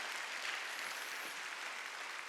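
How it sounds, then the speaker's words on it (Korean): Applause from a congregation during a Thanksgiving Sunday church worship service, a dense, even wash of many hands clapping that holds at the same level throughout without any speech over it. "박수 칠려면 치고 말려."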